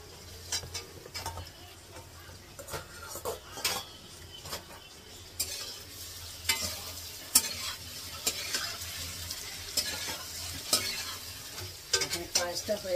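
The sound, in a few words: paneer being stirred and fried in a pan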